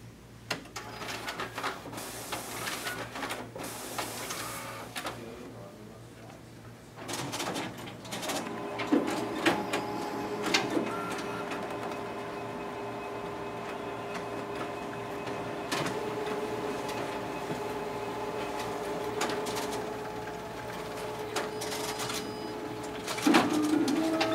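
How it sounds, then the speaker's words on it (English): A Xerox WorkCentre 7435 copier feeds pages through its document feeder and double-staples them in the finisher, giving a steady mechanical hum with repeated whirs, clicks and thumps over about twenty seconds. "we'll go ahead and test out the document feeder as well as the stapling feature on our finisher"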